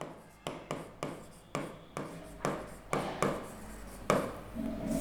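Chalk or a marker taps and scrapes across a board in a series of sharp strokes, roughly a dozen quick marks at uneven intervals, close and fairly clear, with no speech over them.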